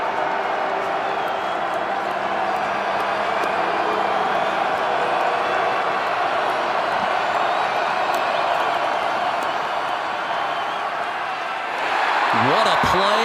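A large college football stadium crowd at Indiana State at South Dakota State roars on a third-and-15 play, a loud, steady wall of noise that swells slightly near the end.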